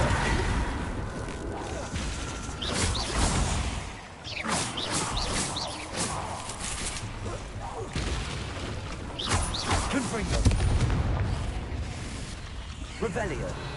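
Confringo blasting spells going off in Hogwarts Legacy, with loud crashing bursts around three and ten seconds amid a constant rumble of game effects and a speaking voice.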